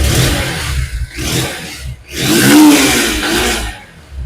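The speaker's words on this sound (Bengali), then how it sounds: "আপনাদের ভিউয়ার ইঞ্জিন সাউন্ড শুনতে পাচ্ছেন খুব স্মুথলি" A second-hand Honda X-Blade motorcycle engine runs close by, rising in two smooth throttle swells with a brief dip between them, loud and alone.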